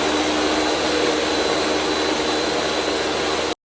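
A Ninja Professional Plus blender runs at full speed with a loud, steady, broadband roaring whir that stays constant and then cuts off abruptly, with no talk.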